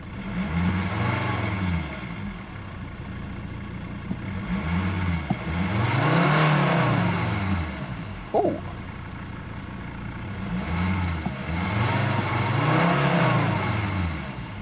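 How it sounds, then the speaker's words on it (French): A 2005 Volvo XC70 2.4 D5 five-cylinder diesel engine revs repeatedly, rising and falling in long waves of deep rumble, loud and close, with no voices. "on va faire un petit peu rugir le 5 cylindres"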